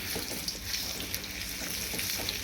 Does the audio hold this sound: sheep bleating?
no